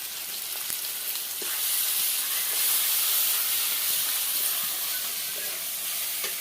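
Ginger, cashew and melon seed paste sizzles steadily in hot oil in a home kitchen, a dense continuous hiss with a few faint clicks, growing slightly louder midway, with no talking.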